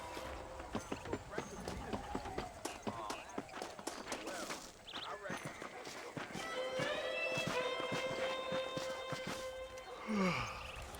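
Horse hooves clop in a steady galloping rhythm in the Red Dead Redemption video game, under voices and game sounds, with a short whinny-like call near the end.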